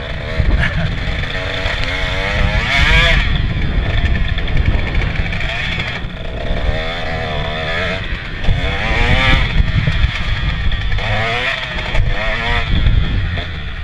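A KTM 150 dirt bike engine straining in deep mud, revving up and down in uneven surges with wavering pitch, loud and close, while a rider speaks over it.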